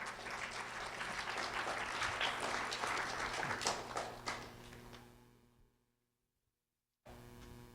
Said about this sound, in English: a round of applause for Hans Leaf Alcero